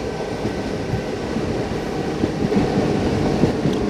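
MEMU passenger train running near Mahe station in Kerala, a loud continuous rumble of wheels and carriage with rhythmic rail clatter, heard from on board.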